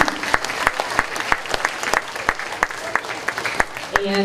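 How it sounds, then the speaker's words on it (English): A school assembly audience applauds in thanks, a busy wash of clapping with sharp individual claps standing out, steady throughout, a voice starting to speak at the very end. "Give her a round of applause."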